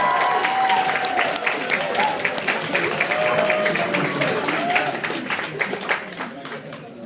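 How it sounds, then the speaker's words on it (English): A crowd at an Australs 2013 debating semifinal gives sustained, loud applause for the negative team, Melbourne1, with faint voices underneath as the clapping thins toward the end. "And now give a round of applause for the negative team"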